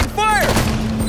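Gunfire in a video game: a dense burst of rapid shots and a brief synthetic whistle over a steady electronic hum, loud and continuous across the short moment, with a game voice speaking over it.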